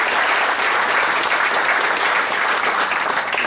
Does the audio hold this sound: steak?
no